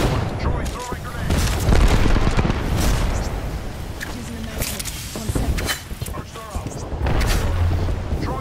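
Airstrike blasts in Apex Legends pound in a dense, continuous barrage of loud booms and crackling detonations, with voices mixed in.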